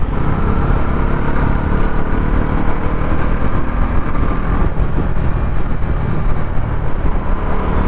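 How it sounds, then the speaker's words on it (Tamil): A Bajaj Pulsar NS400Z motorcycle with a ride-by-wire throttle runs loud and close, its engine a dense, steady roar that holds nearly even throughout with no talking. "And I love this right by wire throttle."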